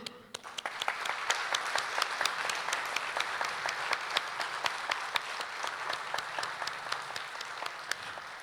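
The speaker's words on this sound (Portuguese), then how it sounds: "nós vamos te aplaudir novamente" An audience at a public religious lecture applauds the speaker, a fairly faint but continuous patter of many hands clapping that holds steady throughout.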